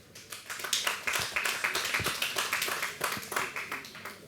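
At a local investment awards event in Loiret, an audience claps for Émeric Seguin, president of the departmental public works federation. The clapping is soft and sounds distant, a steady patter of many hands with no talk over it.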